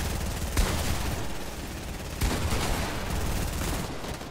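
Gunfire in Fortnite crackles through dense, continuous rattling, with two sharper, louder shots standing out about one and a half seconds apart over constant background firing.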